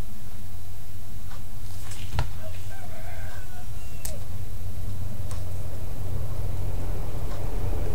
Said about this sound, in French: J'ai le coq qui chante.